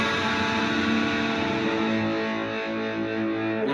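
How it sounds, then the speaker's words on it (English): Distorted electric guitar playing its top three strings, bent up slightly and back down, giving a sustained, wavering, slightly out-of-tune chord, loud and continuous. "you're gonna bend up slightly and then back down"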